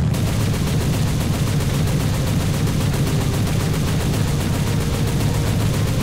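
Machine gun fire aimed at a biplane in War Thunder, a loud, unbroken stream of rapid rhythmic shots rattling steadily throughout, with no pauses.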